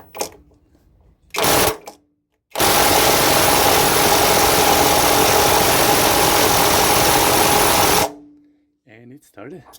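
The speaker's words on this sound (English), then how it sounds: "this is the highest power for this impact wrench" An impact wrench runs on its highest power setting to remove a water heater anode rod: a short burst, then a long, loud, steady hammering whir of about five seconds, with quiet talk before and after.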